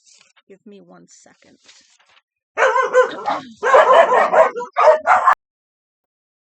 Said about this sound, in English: Sorry about the dogs barking. They're going crazy right now.